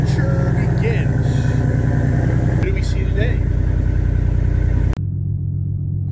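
A Ford race truck engine runs loud and close with a deep rumbling idle throughout, then shifts to a lower, steadier tone near the end, with voices in the background.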